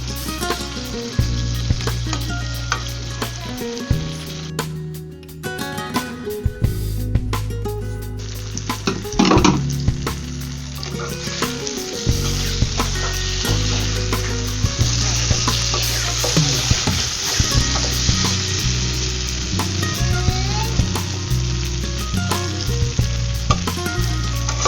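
Potatoes and spices fry in a pan for a brinjal, potato and tomato bhaji, a steady broadband sizzle with occasional stirring, held under a continuous musical backing throughout.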